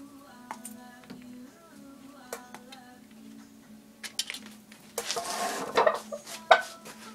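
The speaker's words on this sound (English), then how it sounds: "I'm going to mix up some glue" Glue for a Damascus knife with an antler handle is mixed in a small container, with scattered ticks and scraping clicks that grow busier and louder in the last couple of seconds over a low steady hum.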